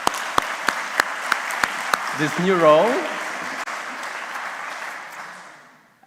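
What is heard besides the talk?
audience applause for Dalila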